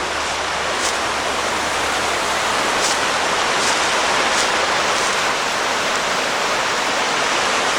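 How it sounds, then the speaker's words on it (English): A waterfall near mountain ruins by an old incline plane roars in a steady, loud, unbroken rush of falling water, with no one talking. "There's another waterfall up there too."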